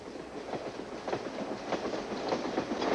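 A passenger train runs along a Canadian railway line with a steady rolling rumble and soft rhythmic wheel clicks. It is heard from on board, fairly close, with no voices.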